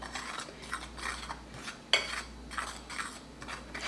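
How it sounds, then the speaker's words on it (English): A spoon stirring fish stew in a pot, soft rhythmic scraping strokes against the pot with one louder clink midway, fairly quiet and close, no voices. "We're just gonna stir that."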